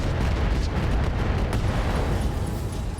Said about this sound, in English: Ammo explosion there.